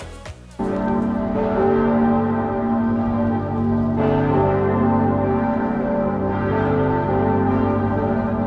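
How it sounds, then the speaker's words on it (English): Noon bells pealing at the Temple of Saint Sava in Belgrade, a loud sustained ringing with strong overlapping tones and fresh strikes that swell the sound every few seconds. "As you can see, we made it to the noon bells."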